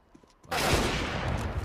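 Automatic gunfire in a CS:GO match on the Nuke map, a sudden loud sustained burst after a quiet moment, dense rapid shots blending into a continuous roar.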